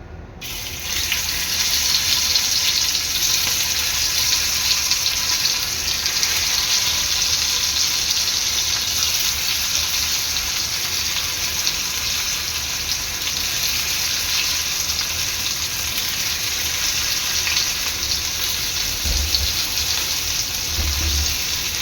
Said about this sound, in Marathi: आता इथे तेल चांगलं गरम झालेलं आहे आता ह्यामध्ये मी भेंडी सोडणार आहे